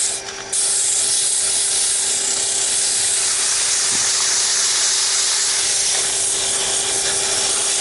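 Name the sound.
sanding a wooden muddler on the lathe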